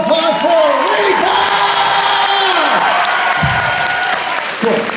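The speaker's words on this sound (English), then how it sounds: "Can I get a round of applause for Reefa?" A crowd at a dance competition applauds and cheers for a dancer, dense steady clapping with whoops over a voice at the start, fading out near the end.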